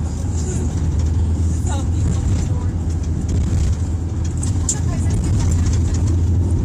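A car driving along a road on the left side, a loud steady engine and road rumble running throughout, with people talking over it.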